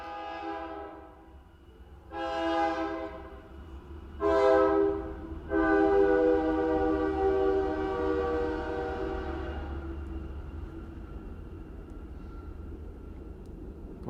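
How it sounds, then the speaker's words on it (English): A train passes near a nature area, sounding its horn in several long blasts, first short, then two brief ones, then a sustained blast, over a steady low rumble of rolling wagons that lingers after the horn stops. "here comes a train"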